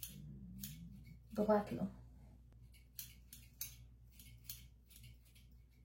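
Scissors cut hair into small choppy points, a series of crisp close snips spaced out after a brief spoken remark.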